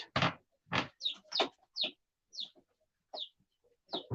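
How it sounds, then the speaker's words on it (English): Chickens and young turkeys clucking close by, a string of short separate calls and chirps of varying pitch, loud and near with no talk over them. "I thought I'd show them chickens to you."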